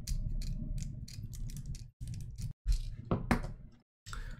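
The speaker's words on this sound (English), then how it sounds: "So we'll just tighten those down with a screwdriver." A screwdriver tightening screws through brass spacers when fitting a Raspberry Pi to a drone frame: quiet, close, irregular clicking and ratcheting with small knocks and short gaps.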